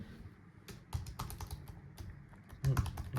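Scattered clicks of typing on a laptop keyboard resting on a deskmat, irregular and close, with a louder burst of taps near the end.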